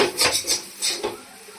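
A utensil scrapes and clinks against a pan while bread pulao is stirred, a few quick scraping strokes in a close, uneven rhythm with no talk.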